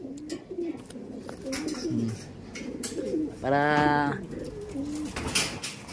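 Pigeons cooing close by in a backyard where birds are being fed, several soft throaty coos with one louder rolling burst midway, with a brief spoken word and light background noise.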